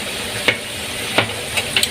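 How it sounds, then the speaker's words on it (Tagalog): Potatoes frying in a pan make a steady, loud sizzle, with a few short stirring clatters at intervals and no talking. "hanguin na natin itong pinipiritong patatas natin"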